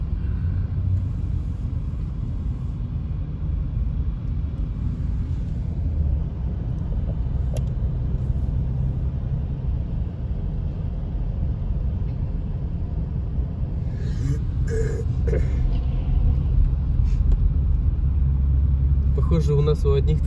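A car drives along a snowy winter road, carrying a snowdrift on its roof, giving a steady low engine and tyre rumble from inside the cabin throughout, with people talking over it.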